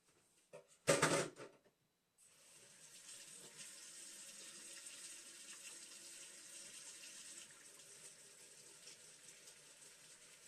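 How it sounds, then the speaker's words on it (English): Tap water runs steadily into a kitchen sink while hands are washed during sushi roll preparation, after a brief clatter at the start; close and continuous, with no speech. "gotta go wash my hands again"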